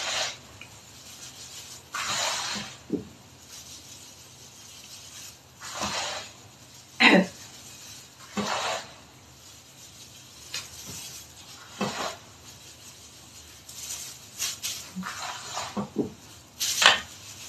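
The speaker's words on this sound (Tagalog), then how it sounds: "Tapos, haluin lang natin." Homemade powdered detergent mixture stirred by hand in a bowl, giving intermittent scraping and rustling strokes, some sharper knocks, between stretches of quiet, with a voice talking now and then.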